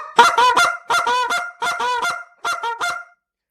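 A goose call blown in a cluck, moan, cluck sequence, four loud close honking bursts with brief gaps, the last one shorter, alone with no talk.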